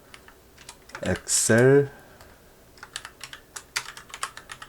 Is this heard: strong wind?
no